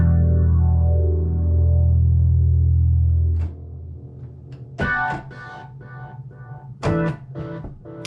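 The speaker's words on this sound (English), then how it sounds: "it's got a nice phase and just the right amount of distortion" A loud, distorted low drone fades out, followed by sharp, phasey crackling bursts and buzzy synthetic tones with heavy effects.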